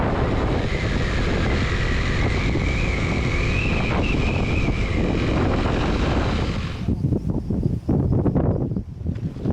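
Strong wind buffets the microphone on an open road in Vietnam, a loud continuous rumbling roar that drops away abruptly near the end, leaving gusty bursts.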